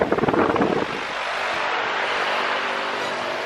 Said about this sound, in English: Hopefully you can hear me over this fan.